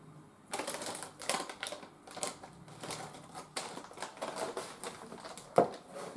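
Dry potato crisps crunched while eating, a run of sharp, close, irregular crackling bites and chews, loud and alone with no talking.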